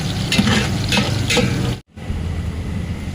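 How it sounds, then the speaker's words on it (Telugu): Onions fry in oil for bagara rice in a large cooking pot, a loud, continuous close sizzle with a few stirring strokes, and one brief dropout near the middle. "దాంట్లో ఆయిల్ వేసుకొని ఉల్లిపాయలు ఫ్రై చేస్తాను"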